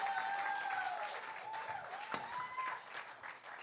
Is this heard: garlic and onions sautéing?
no